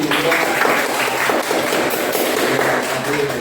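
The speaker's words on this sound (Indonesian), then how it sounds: "tepuk tangan untuk kelompok 1" Students in a classroom applaud group 1, a dense, steady patter of clapping from many hands that runs continuously without pause.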